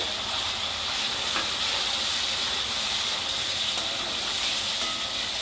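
Onion and tomato sautéing in oil give a steady, close hiss and sizzle that holds evenly throughout, with faint stirring scrapes underneath and no talking.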